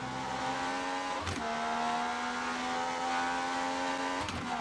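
Niki Lauda's Ferrari race car in the F1 2018 video game, lapping the Austrian circuit: a loud, steady engine drone holding high revs, with two brief gear-shift dips, close and continuous with no talk.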